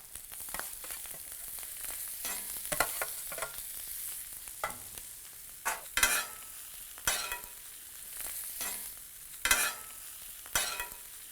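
Chicken tawa pulao with peas and masala being stir-fried on a hot tawa, with two spatulas scraping and tossing in quick irregular strokes over a soft sizzle.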